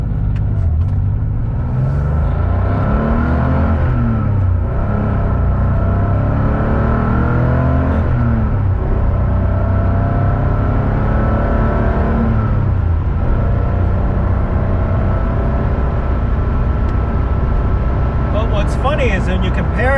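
An air-cooled Porsche engine with few water jackets to muffle it revs up repeatedly, its rising whine climbing in pitch with each run through the gears, loud and close, steady roar between pulls.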